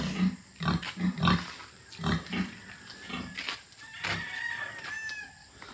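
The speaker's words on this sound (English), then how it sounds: "we got the pigs over here last week." Small sows on a farm grunt in a short run of bursts through the first half, with chickens clucking and a rooster crowing nearby in the background, and no talk.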